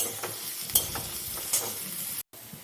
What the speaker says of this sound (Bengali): পেঁয়াজটা ভালো মতন ভাজা ভাজা হয়ে যাক